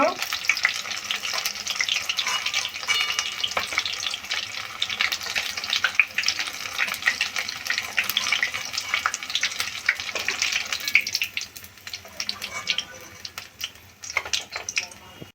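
Onion flower pakora deep-fries in hot oil with a dense, steady crackling sizzle that holds close and loud, thinning out toward the end.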